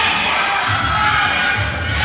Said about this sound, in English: This crowd is coming alive.